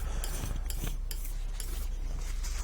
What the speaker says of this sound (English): I'm just going to scrape up. I'm using a plastic palette today,